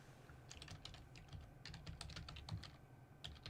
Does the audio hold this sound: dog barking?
no